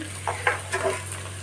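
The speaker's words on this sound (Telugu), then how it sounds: "ఇవి అంతా ఫ్రై అవుతున్నాయి, గోల్డ్ కలర్లోకి వచ్చేస్తున్నాయి" Vegetables and egg for restaurant-style fried rice fry in oil in a pan, a soft steady sizzle with a few light stirring clinks over a low hum, close and without talk.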